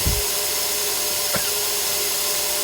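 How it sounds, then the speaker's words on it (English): Compressed air leaking from a bus air spring hisses out in a loud, steady, unbroken stream, with a dull knock at the start and a faint click partway through. "It's leaking so much I can't even get it to bubble up"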